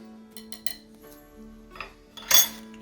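A utensil stirs cheesecake batter with flour and a small spoonful of salt in a bowl. There are a few light clinks, then a louder scraping clatter near the end, close up, over a steady low hum, with no speech.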